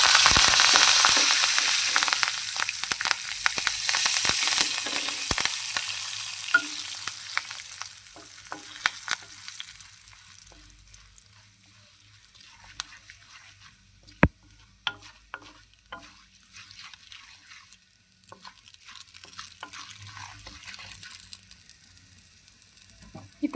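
Curry leaves dropped into hot oil for a tempering, bursting into a loud crackling sizzle that gradually dies down to faint scattered pops over a long stretch, with a few sharp clicks of a utensil.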